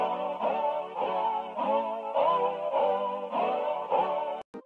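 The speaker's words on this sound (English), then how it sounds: "the original producers used an old vintage synth called a Roland" Roland VP330 vintage synthesizer playing a song intro: rich, sustained string-like chords in a steady pulsing rhythm, close and loud with no talk, briefly cut off at the end.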